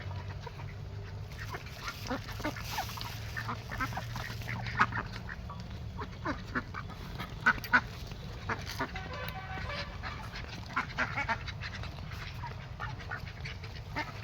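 Ducks quack in a close, busy flock, with many short, overlapping calls repeating throughout over a low background hum.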